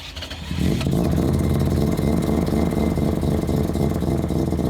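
A three-rotor rotary engine car starts on the first try, firing up abruptly after a brief quiet moment and settling into a loud, steady, throbbing idle that stays close and dominant.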